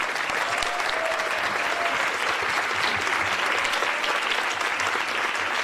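A conference audience applauds to welcome Senator Cory Booker as keynote speaker, a dense, steady wash of many hands clapping that holds evenly throughout, loud and sustained with no break.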